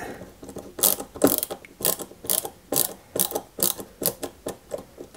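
A screwdriver turns the small screws on a 1961 London Routemaster RM857 model bus kit. It gives a rhythmic series of close, ratcheting clicks, each burst of turning followed by a short pause.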